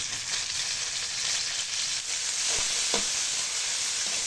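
Browned garlic and chopped tomato sizzle steadily in a pan for ginisang pakbet, a loud, continuous frying hiss broken by a few soft stirring clicks near the end.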